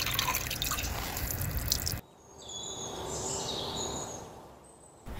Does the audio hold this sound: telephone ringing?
no